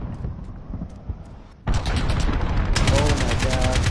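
AK rifle gunfire in Call of Duty Modern Warfare, quieter distant shots giving way abruptly to loud, rapid close-up automatic bursts with a dense rattling rhythm, with a voice briefly heard under it.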